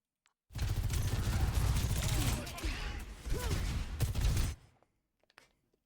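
Gunfire in the video game Overwatch rattles in one dense, continuous burst lasting about four seconds, loud and close, then cuts off abruptly into near silence.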